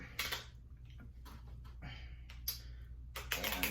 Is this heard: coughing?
no